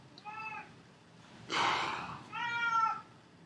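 A house cat meows three times indoors, a short call, then a louder, breathier cry, then a clear drawn-out meow, close and alone.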